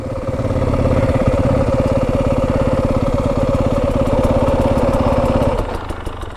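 A Yamaha WR250F dirt bike engine idles close up with a steady, rapid, even putter, then drops off abruptly near the end.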